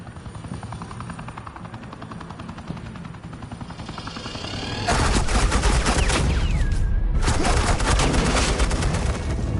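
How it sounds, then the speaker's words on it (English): Suppressing gunfire in a Batman video game, starting as a steady low rumbling drone that abruptly erupts into loud, continuous rapid automatic fire, briefly dropping out near the end before resuming. "This is Agent Quinn, suppressing fire."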